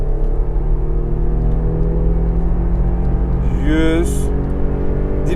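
Audi A6 C5 with a 3.0 V6 accelerating at half throttle in sport mode at Dortmund Airport, a steady, close engine drone and road rumble heard from inside the car, with a rising whine near the end.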